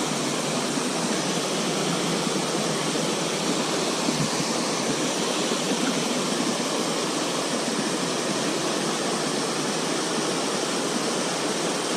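Steady rushing flow of water in an urban creek, a constant broadband splashing hiss with no pauses, close and fairly loud, without any talking.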